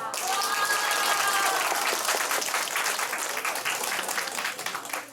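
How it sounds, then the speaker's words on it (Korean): Students at a school debate contest applaud in a dense, loud burst of clapping that holds steady for several seconds before gradually thinning out. "박수!"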